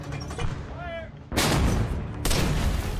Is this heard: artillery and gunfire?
yes